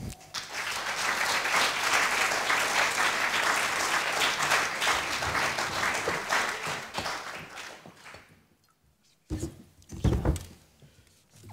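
An audience at a Literatuur Late Night literary event applauds loudly and steadily for several seconds as a guest comes on stage, then fades to silence before a few thumps and shuffles.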